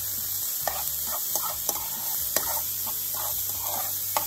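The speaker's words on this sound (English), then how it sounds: "We're gonna give this a nice saute." Finely diced garlic, onion and green pepper sauté in butter and oil with a steady hiss, punctuated by regular close scrapes and taps of a utensil stirring the pan, no voices.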